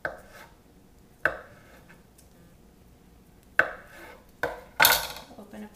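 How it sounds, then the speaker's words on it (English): A knife chops cold butter into small cubes on a cutting board for apple pie crust, five sharp separate thunks spaced irregularly and heard close in a quiet kitchen without talk. "you just want to take your butter and you want to cube it up into little squares"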